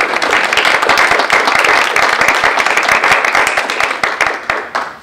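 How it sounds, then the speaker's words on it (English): A large audience claps steadily and densely at an arts and media community event, loud throughout and tapering slightly near the end. "let's all give a round of applause"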